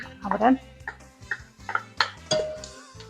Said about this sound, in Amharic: ሽንኩርቱ ትንሽ ከቅቤው ጋር አቁላልተናል